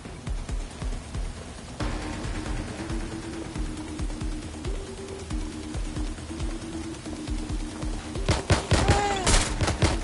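Gunfire in Watch Dogs: Legion: a low, tense game score runs for most of the stretch before a loud burst of sharp shots and impacts erupts near the end.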